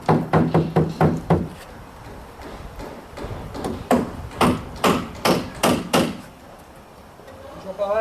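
Hammer driving nails into wooden formwork for a precast beam, loud ringing blows in quick runs, first a fast burst, then a slower series of evenly spaced strikes.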